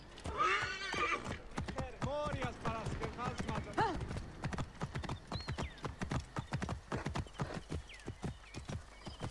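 Horse hooves clip-clop in a rapid rhythm while a horse neighs and whinnies, set in the video game Assassin's Creed Origins; a voice speaks over the sounds.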